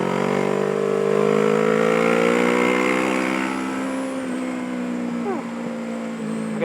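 Motorcycle engine after a downshift on an early morning ride, a loud sustained mid-pitched drone whose tone slowly falls, close and continuous, with faint wind.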